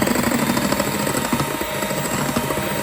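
Plum cake batter is beaten after oil is added, producing a loud, steady mechanical whirr with a rapid rattling pulse that runs unbroken from start to finish.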